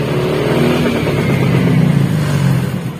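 A motorcycle engine started with a double starter, catching and running at a loud, steady close idle with slight rises in revs.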